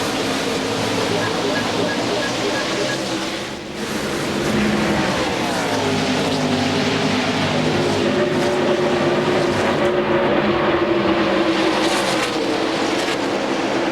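NASCAR stock cars race at Darlington just after the green flag, a loud, dense roar of many engines passing near and far with shifting pitch, briefly dipping before surging again, with a commentator talking over it.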